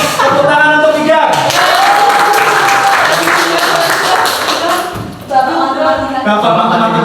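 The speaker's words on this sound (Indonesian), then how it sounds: "Tepuk tangan untuk hijab." An audience at a school teacher-training session in Indonesia claps, a sustained wash of applause filling most of the stretch, with voices and bits of talk mixed in underneath.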